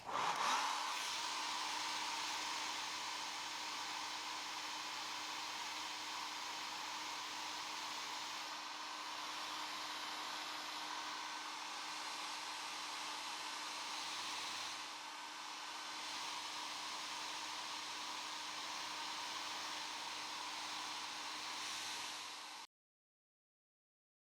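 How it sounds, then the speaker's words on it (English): A hair dryer runs steadily for over twenty seconds drying a watercolor painting, a constant loud whir with a faint tonal hum, then cuts off abruptly. "I'll turn the sound down from the dryer"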